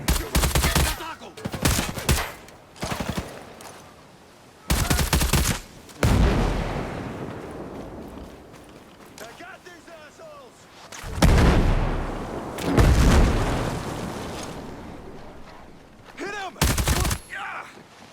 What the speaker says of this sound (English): but the gun's pulling up so much